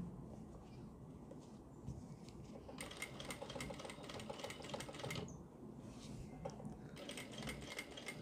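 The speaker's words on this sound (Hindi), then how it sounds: "इसको आराम से ऐसे करके सिलाई लगाएंगे बराबर से बिल्कुल इसके" A sewing machine stitches fabric with a fast, faint whirring chatter that runs in two long bursts over a constant low background hum.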